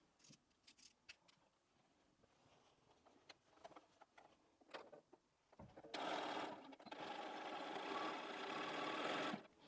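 A sewing machine stitches binding onto a fabric Christmas tree skirt, a loud steady run of several seconds near the end after quieter handling and clicks.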